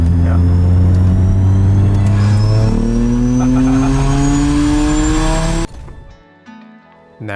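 Car on a test track, a quad-motor electric powertrain accelerating hard with a rising whine climbing steadily in pitch, loud and close, then cutting off abruptly near the end into a brief quieter tail.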